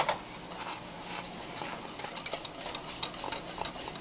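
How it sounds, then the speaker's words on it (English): Lemon pie filling with sugar gets whisked in a pot, a soft continuous swishing with quick rhythmic metal taps against the sides, close and fairly quiet, no talk. "and keep whisking it."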